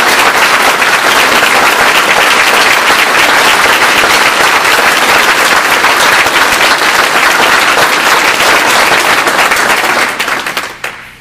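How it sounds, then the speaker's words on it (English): Loud, sustained applause from an audience at a 2013 business-week event for the Franklin Tubular team, dense clapping filling the room for about ten seconds before tapering off at the end. "They're the ones that need the applause tonight."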